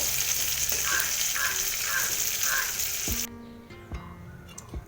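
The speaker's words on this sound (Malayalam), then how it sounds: "അപ്പോൾ നമ്മുടെ ചിക്കൻ ഫ്രൈ ഏകദേശം റെഡി ആയിട്ടുണ്ട് കേട്ടോ" Chicken fry crackling in hot oil with curry leaves, a dense close sizzle with a few soft stirring swishes that cuts off abruptly, leaving scattered clinks and faint household sounds.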